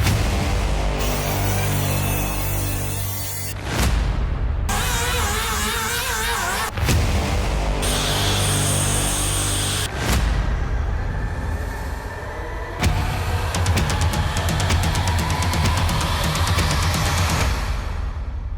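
A restored 1971 Datsun 240Z on the road: a steady engine and road drone runs through the whole stretch, broken by several abrupt cuts, with tone and loudness shifting between segments.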